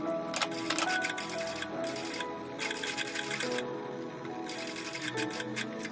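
A sewing machine stitching a slit on a blouse, running a topstitch around the opening: rapid close ticking in several short runs separated by brief pauses.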